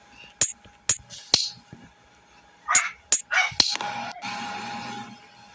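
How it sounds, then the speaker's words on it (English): Sharp, close barks from a pet dog indoors come in scattered groups of two or three, separated by quiet gaps, with a person talking faintly underneath and a brief broadband rustle at the end. "He's barking at my mom."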